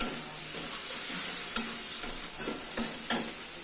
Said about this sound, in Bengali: চিংড়ি মাছটাকে একটু ভাজা ভাজা করবো